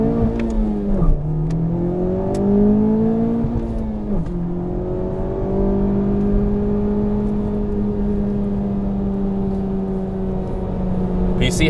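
A new Honda Civic Type R accelerates hard on an open road, its engine note climbing steadily and dipping at two gear shifts before pulling strongly again. The sound is loud and continuous, heard from inside the car.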